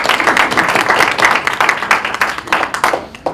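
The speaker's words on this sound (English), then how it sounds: "Can we please give a great applause?" Small audience at a women's meeting applauds, a short burst of close, loud clapping that thins out and fades toward the end.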